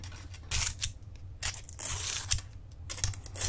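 Scissors snip through green paper with several quick, close cuts and crisp paper rustles in between, set against a low steady hum.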